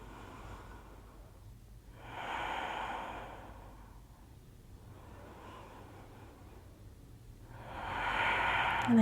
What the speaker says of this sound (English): Take 3 full breaths.